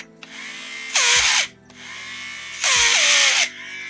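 Power drill grinding out internal plastic inside a Razer Viper gaming mouse, two loud close bursts of whining drilling about a second long each, with quieter motor hum between them and no talk.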